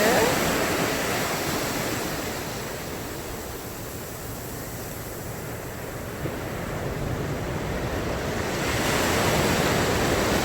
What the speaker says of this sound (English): love the waves, sound of waves crashing.